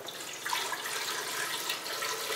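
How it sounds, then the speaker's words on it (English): Cold tap water pouring into a container already holding ice, a continuous close hiss of flowing water lasting the whole stretch at an even level, with no talking. "I'm going to pour about a quart of water in here."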